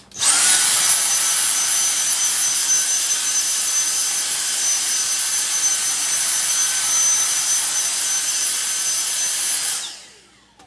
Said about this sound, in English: because I have the Dyson vacuum out